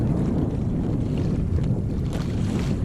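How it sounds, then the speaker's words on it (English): Steady wind roars across the microphone while a Hobie kayak sails near Pensacola, a continuous close buffeting with faint water wash underneath. "we got a decent wind right here"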